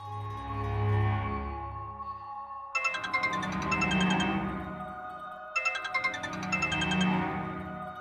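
A mobile phone ringtone plays in a domestic scene from a Marathi TV serial, a bright repeating electronic melody sounding in distinct bursts, loud and close, with no voices over it.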